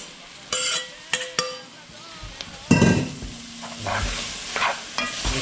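Cajun gumbo roux stirred in a pot, with spoon scrapes and clinks against the pot over steady sizzling, several sharp knocks near the start and a louder churning stir midway, close and clear with no talking.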